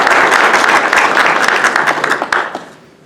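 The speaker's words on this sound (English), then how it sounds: "Can we all give them a round of applause?" An audience at a county state's attorney press event bursts into a loud, steady round of applause that holds strong for most of the stretch, then tapers off near the end.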